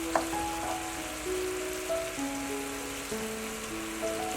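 Garlic ginger paste frying in oil on a medium flame, a steady close crackling sizzle with faint tonal hums running underneath, with no talking.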